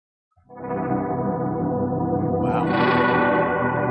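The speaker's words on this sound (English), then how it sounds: "Chorus and reverb." A sampled sound, run through a filter with chorus and reverb, swells in after a brief silence into a dense, sustained synthetic texture that slowly brightens and stays loud to the end, with no talking.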